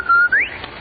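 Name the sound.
Rinso White whistle from radio advertisement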